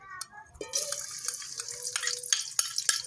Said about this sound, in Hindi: हमारा गरम हो गया और ये हमने एक छोटे साइज का प्याज लिया है, ये डालेंगे